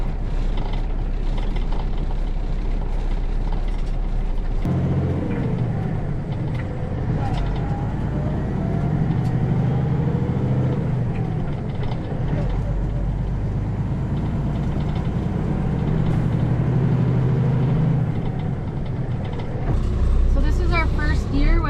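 Inside a moving truck, a steady engine drone and road rumble carry on while the driver shifts through the gears, the pitch dropping and climbing at each change. A voice talks over the noise for much of the time.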